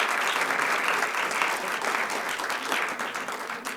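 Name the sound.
audience applause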